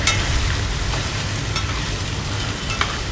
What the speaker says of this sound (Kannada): ಈ ಥರ ಸ್ವಲ್ಪ ಹೊತ್ತು ಇದೇ ಥರ ಫ್ರೈ ಮಾಡ್ತಾ ಇರಬೇಕು